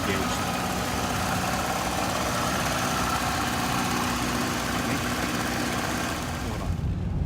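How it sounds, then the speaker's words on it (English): A 1997 Chevrolet Camaro makes a rattle over a steady, loud engine drone that stays constant throughout, then eases off at the very end. "And then you hear like that rattle noise now"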